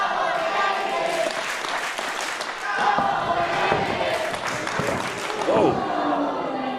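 A wrestling crowd at a UK Pro Wrestling match between two wrestlers cheers, claps and jeers in a dense, continuous roar, with a few thuds from the ring and voices mixed in.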